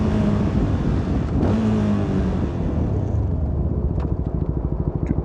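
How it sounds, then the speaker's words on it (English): On a country road through small Pennsylvania towns, a passing car is heard over the steady engine of a CFMoto 300NK motorcycle, which thrums loudly close by with a pulsing exhaust beat. "Maybe we'll see some other vehicles on the road, like that Zuby."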